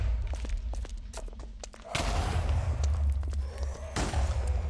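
Repeated explosions from a Minecraft wither farm, two heavy booming blasts a couple of seconds apart over a constant low rumble, preceded by scattered thumps.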